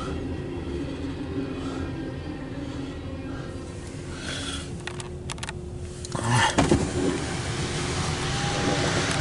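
A CSX mixed freight train passes close by, its steady rumble carrying rattling, clicking wheel and car noises that build louder toward the end; no talking.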